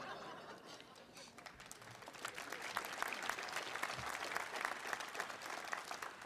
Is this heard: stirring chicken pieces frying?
no